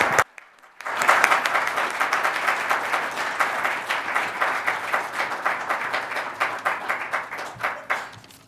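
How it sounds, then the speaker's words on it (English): An audience at a lecture breaks into loud, sustained applause, dense clapping rising after a brief silence and continuing steadily before thinning out toward the end. "So please join me now in another round of applause"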